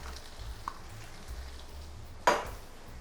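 Pork belly and shiitake mushrooms are stir-fried in a pan, with soft scraping and light sizzling, a few faint clinks and one sharp utensil knock near the end.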